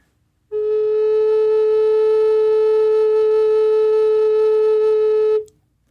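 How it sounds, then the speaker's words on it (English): A Native American flute played with every finger hole closed holds one steady, clear low note for about five seconds, loud and alone, then stops cleanly. "here's the sound the flute should make."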